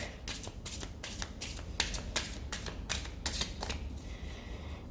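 A deck of cards being shuffled close by, a rapid series of crisp riffling bursts and flicks in quick rhythm, about a dozen strokes, quiet and alone without talk.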